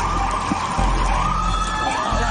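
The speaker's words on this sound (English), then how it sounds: "The ambulance is coming. I hear it." An ambulance siren wails steadily in the background, its sweeping tone running through the whole stretch under a constant low rumble, with no clear talk over it.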